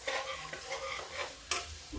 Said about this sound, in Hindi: अब इस मसाले को हम तेज आंच पे भून लेंगे